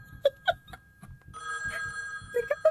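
A telephone in the video game Copycat rings with a loud, insistent bell-like trill, sounding in a long burst between short sharp tones.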